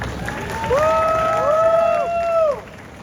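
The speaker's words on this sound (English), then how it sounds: "Round of applause, everybody." Convention audience at a Star Wars: The Clone Wars panel at Nostalgia Con 2025 breaks into applause and cheering, with high whoops rising over the clapping. The sound is steady and fairly loud for about two seconds, then drops away.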